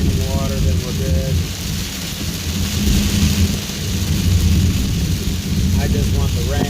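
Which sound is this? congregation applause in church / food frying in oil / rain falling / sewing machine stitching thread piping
rain falling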